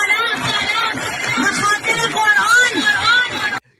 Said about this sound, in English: the crowd cheers inside Iran